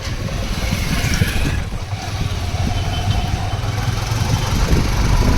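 A motorcycle ridden by a friend rumbles steadily on a road near Kadana Dam, its engine droning loud and close with wind buffeting the microphone throughout.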